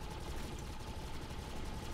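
Dense, continuous gunfire from the video game Defiance: a steady wall of rapid shots that stays loud and unbroken for the whole stretch, with no voices.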